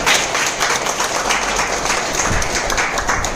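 An audience bursts into loud, continuous applause, many hands clapping together in a dense, steady roar from start to finish.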